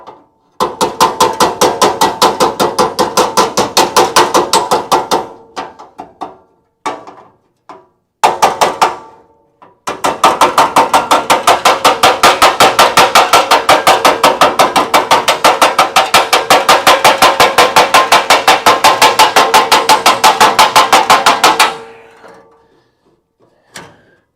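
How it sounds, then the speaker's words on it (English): A hammer and dolly flatten a metal trunk pan on a Crew Cab Charger with loud, rapid, close blows fired in long dense bursts, broken by a few short pauses and scattered single strikes. "let me get the hammer and dolly, get a flat edge, and then just make sure this is nice and smooth"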